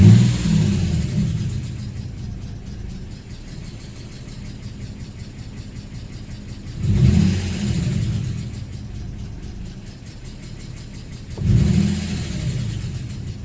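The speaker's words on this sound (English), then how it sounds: "When I'm coasting in neutral, the RPMs want to stall, or the engine wants to stall." An Infiniti G35 sedan with a Stage 3 clutch and flywheel revs three times, each sharp throttle burst dropping back to a low, unsteady idle that sags toward stalling, heard close and alone.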